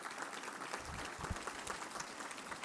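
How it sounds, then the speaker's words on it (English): Steady applause fills an indoor room at a small business awards event, sustained even clapping from a crowd throughout. "Please stand up and get a round of applause"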